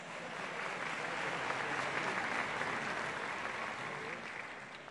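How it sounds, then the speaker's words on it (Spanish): Audience at the Reina Internacional del Café 2020 pageant applauding for a jury member; a broad, steady wash of clapping rises slightly and then fades, heard faintly from a distance. "Un aplauso, por favor, para Sori Matos."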